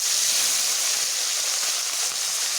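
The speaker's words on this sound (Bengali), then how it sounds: "এবার আমি মাছগুলোকে ছাড়ছি" Small mola fish slide into hot salted oil in a pan, giving a steady, loud, even hiss of sizzling that holds for the whole stretch without talk.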